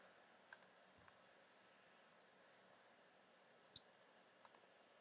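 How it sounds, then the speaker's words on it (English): Computer mouse clicks during an online zone poker session, scattered sharp taps, some in quick pairs, spread over a quiet background. "I'm going to start clicking check fold so you can actually get to some hands here"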